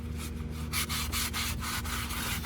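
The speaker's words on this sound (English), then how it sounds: "Get your rag, wipe up all the excess oil." Rag rubbing and wiping excess engine oil around the drain plug of a 6th gen Chevrolet Camaro SS during a home oil change, a series of quick close scrubbing strokes over a steady low hum.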